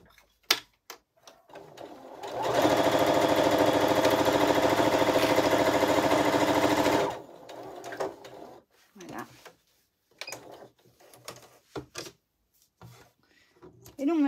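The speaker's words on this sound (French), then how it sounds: "Clarisse, on va coudre le tour, hein, tu vas voir" A sewing machine stitches around the edge of a fabric Christmas stocking in one steady, loud run of about five seconds, with brief handling clicks and a voice talking before and after it.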